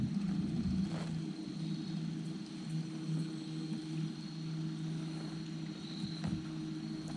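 A Newport electric trolling motor drives a small boat on the water at Millers Cove, a steady low hum with a faint whine and small splashes, fairly close and constant.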